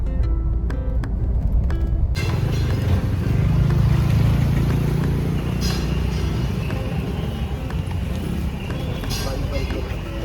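A car moving along a road, with steady engine and road rumble throughout and voices speaking over it.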